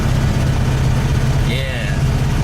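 A VW Beetle engine struggles to idle after an ignition switch replacement, a steady low rumble running throughout at close range, with a brief higher whistling tone rising faintly partway through.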